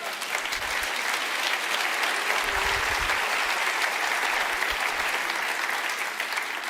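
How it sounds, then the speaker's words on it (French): A church congregation applauds during a French-language sermon, giving sustained, even clapping from a full room for several seconds with no break. "Vous pouvez l'applaudir lui, oui."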